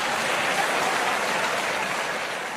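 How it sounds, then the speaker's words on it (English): A comedy-club audience claps steadily, a dense, even wash of applause at fairly close range that holds for a few seconds, with no voices over it. "Was there even any difference in the applause?"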